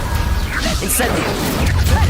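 A fire spell cast in the Hogwarts Legacy video game gives a loud, dense burst of magical whooshing and crackling effects that runs unbroken for about two seconds.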